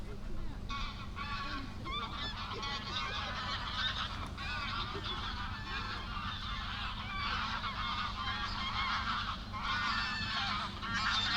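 Geese honk steadily as they fly in over tidal flood water on the Norfolk Broads, the calls overlapping in a continuous, moderately distant chorus with a low background rumble.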